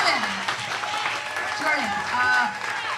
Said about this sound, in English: one more round of applause for Valarie and Jordan